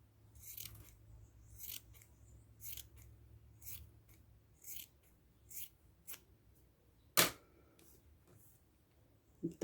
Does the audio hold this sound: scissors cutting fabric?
yes